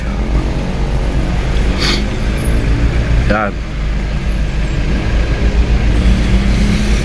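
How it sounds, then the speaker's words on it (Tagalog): Continuous road traffic noise in Baguio City from inside a taxi, a steady low rumble of engines with passing vehicles and a brief whine near the middle, with someone talking over it. "Ganito ang problema, sobrang traffic."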